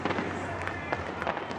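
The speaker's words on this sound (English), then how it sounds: "You can hear in the background the fireworks are going off" Fireworks going off at the Chicago White Sox ballpark after a win, a dense run of pops and crackles heard in the distance under steady crowd noise and a commentator's voice.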